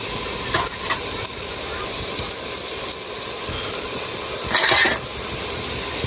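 Green chillies and green garlic sizzle in hot oil while a spoon stirs them in a pan, steady frying hiss with a few scraping clinks of utensil against metal, close and fairly loud.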